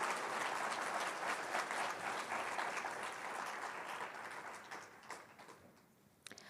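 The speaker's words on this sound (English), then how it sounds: "Can we please give the Alegba Folklore Society another round of applause?" An audience at a Kente donning ceremony gives the Alegba Folklore Society another round of applause, dense sustained clapping that tapers off toward the end.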